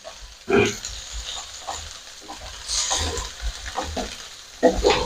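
Fish frying in oil on a flat tawa at home, giving a steady close sizzle with louder bursts of crackle as the pieces are turned, broken by a few clattering handling sounds.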